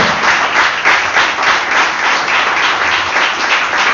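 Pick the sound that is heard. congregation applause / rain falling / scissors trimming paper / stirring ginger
congregation applause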